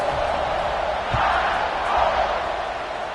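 Crowd noise at a college football kickoff in the NCAA College Football 25 video game, a broad steady roar that swells slightly midway and holds to the end, with a dull thud among it.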